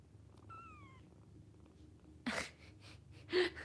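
A cat purrs close up with a low, continuous rumble. A short meow comes early on, and two sharp snort-like bursts follow near the end.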